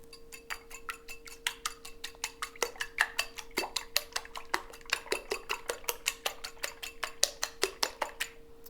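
Four eggs are beaten in a bowl with a fork or whisk, producing a quick, steady run of sharp rhythmic clicks and taps, close and fairly faint, continuing for several seconds with no talking.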